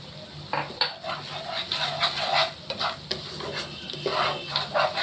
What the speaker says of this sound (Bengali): মশলাটা খুব ভালোভাবে ভেজবো, ইয়ে করে মানে কষাবো।